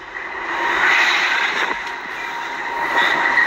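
A train rolling along tracks right beside a house, a loud continuous rumbling roar with hissing wheel noise and faint squeals, sustained and close by.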